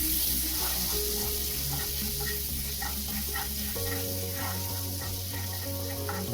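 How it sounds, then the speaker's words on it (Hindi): Asafoetida and garlic fry in hot oil for a kachori dish, giving a steady, close sizzle that runs the whole time with no talk, over faint background music. "तो चलिए हींग और लहसुन अच्छे से भून गया"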